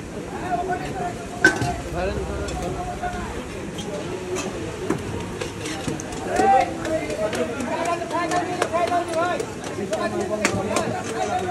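Kalai roti made at Kalai House, a shop specialising in it in Upashahar, Rajshahi: steady clatter and scraping of dough and pans, sharp taps and a faint sizzle under ongoing chatter and nearby talk.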